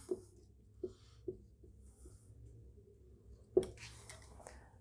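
Chalk or marker taps and scratches on a board during a physics lecture, a few short, faint strokes spaced apart in a quiet room.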